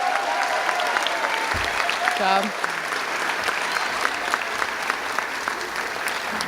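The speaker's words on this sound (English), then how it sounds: "can we give our graduates another round of applause, please?" An audience at a nursing pinning ceremony applauds the graduates with sustained clapping throughout, briefly overlapped by a voice speaking and a short rising tone partway through.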